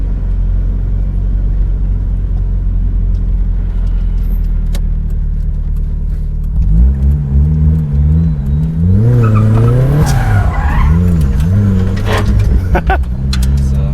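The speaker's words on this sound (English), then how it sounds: "Quick way to do a U-turn in a rear-wheel drive car." A turbocharged, shed-built 350 bhp rear-wheel-drive Mazda MX-5 Miata with a big turbo runs at a steady idle, then revs hard and rises and falls in pitch as it skids through a quick U-turn, loud and close.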